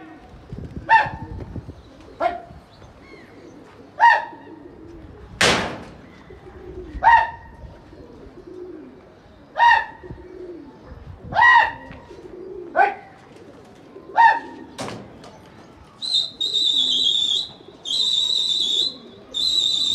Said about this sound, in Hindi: ये उड़ा दिया कबूतर